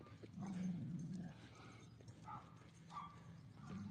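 A dog roams a neighborhood, heard faintly outdoors as low rumbling growls and scuffling movement mixed with background noise, with no clear speech.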